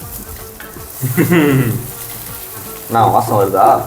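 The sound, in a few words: stirring fried rice with ground chilli in a pan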